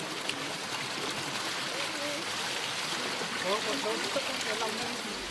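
Water gushes steadily from the eleven spouts of Bali's holiest spring, where families gather for purifying ablutions, a continuous broad rushing splash with faint voices mixed in.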